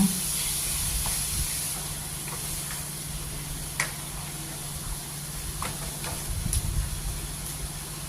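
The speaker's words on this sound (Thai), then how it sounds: "เอาเนื้อหมู ลงไปผัด ผัดให้หอม" Pork sizzles in a pan for a Thai pork and eggplant curry, a steady hiss of frying meat with faint scrapes and clinks of stirring, continuous and fairly quiet throughout.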